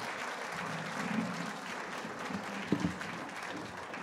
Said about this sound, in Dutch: mag ik een applaus voor mijn gasten hier over het festival te doen?